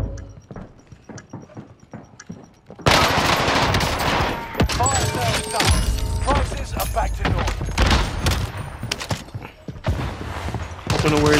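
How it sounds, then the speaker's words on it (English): Gunfire in Call of Duty: Modern Warfare, starting with a light rapid patter of shots, then breaking into loud continuous automatic fire and heavy impacts that stay dense and close throughout. "Receiving hostile fire."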